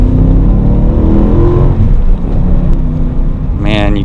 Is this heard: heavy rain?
no